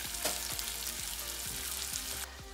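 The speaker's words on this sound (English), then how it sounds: "So we've got the salmon in the cast iron skillet, y'all." Salmon fries in a cast iron skillet with a steady crackling sizzle and some regular spitting pops, heard up close with no voices.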